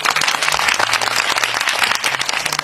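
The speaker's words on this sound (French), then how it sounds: "Ça s'applaudit." Applause from an audience: dense, continuous clapping that fills the whole span at a fairly loud, even level, with no voices on top.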